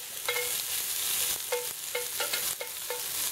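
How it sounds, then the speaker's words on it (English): Diced onion sautés in oil in a hot pan for chicken calabrese, a steady close sizzle punctuated by several rhythmic scraping stirs of a utensil against the pan. "diced onion. I'm going to sweat that down a bit."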